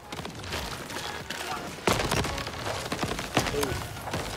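Sniper gunfire in a video game cracks out in a few sharp reports over a busy, noisy game soundscape, with heavier hits spaced a second or two apart.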